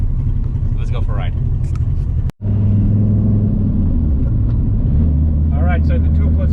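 A Dodge Viper's engine rumbles low and heavy from inside the car while driving, a steady deep drone with a brief dropout, and voices talking intermittently over it.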